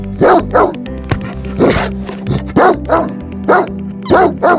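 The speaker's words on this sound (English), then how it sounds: "Powerful and loudest bark. Let's hear it first and we'll decide accordingly." Bully Kutta and Great Dane, large dogs giving loud, deep, powerful barks up close, about a dozen single and paired barks in an uneven rhythm with brief gaps between them.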